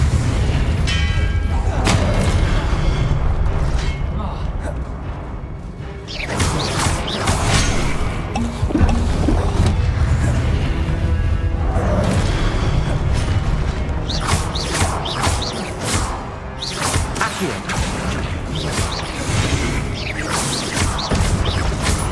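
An Incendio fire spell cast in the video game Hogwarts Legacy, a loud, dense run of whooshing bursts and heavy booms with mechanical rumbling, several separate blasts over an unbroken roar.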